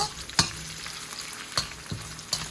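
Fifteen green chillies fry in hot oil with a steady, soft sizzle, broken by a few brief crackles and stirring scrapes.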